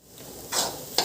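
Radish curry (mullangi fry) sizzles in an open pan on a stove: a steady low crackle that swells into two bright bursts of sizzling as the pieces are stirred, close and loud, with no talking.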